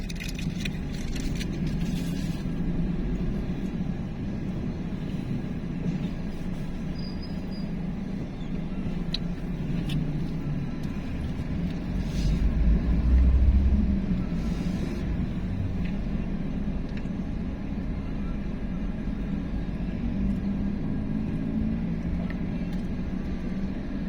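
Road traffic on a Pampanga road in Porac, Philippines: a steady low rumble of passing vehicles, with one louder vehicle swelling past midway and no talking.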